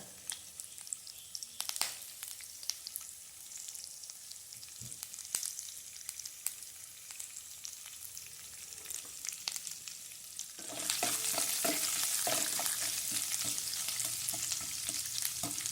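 Coconut pieces are dropped into a hot pan for a mushroom curry. A quiet sizzle with a few stirring clinks jumps to a louder, dense crackle of frying that continues to the end.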